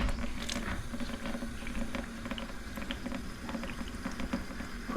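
Air and water sputter from a slowly opened valve on a tiny house cabin's water line, a steady bubbling hiss with irregular spurts and pops, close and fairly loud, with no talk.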